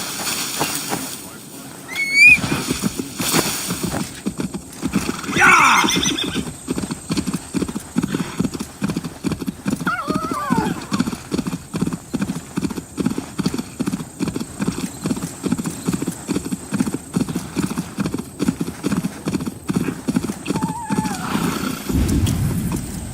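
In Assassin's Creed Valhalla, a horse's hooves clip-clop in a steady, rapid rhythm throughout while the animal neighs and whinnies a few times, with occasional speech over the gallop.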